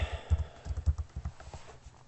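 Keys tapped on a computer keyboard in a quick, irregular burst of soft clicks, close and fairly quiet, with no voices.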